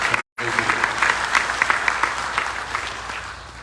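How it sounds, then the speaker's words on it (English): An indoor audience at a Hindu temple birthday event for a Ramayan yagya claps in sustained, even applause after a brief dropout at the start. "give one round of applause please for our very respected"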